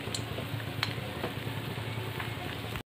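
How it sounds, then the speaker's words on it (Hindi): A slice of bread frying in hot ghee in a kadai gives a steady, close sizzle with faint crackles, ending in a brief drop to silence. "घी गरम हो चुका है, एक ब्रेड मैंने डाल दिया है, अभी इसको गोल्डन होने तक मैं फ्राई करूँगी।"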